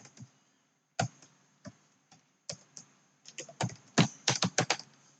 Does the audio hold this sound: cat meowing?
no